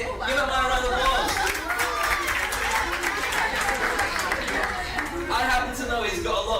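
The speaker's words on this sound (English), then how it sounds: "Give a round of applause." A TEDx talk audience bursts into sustained applause, dense clapping and crowd murmur filling the room steadily from start to finish, with a voice speaking over it.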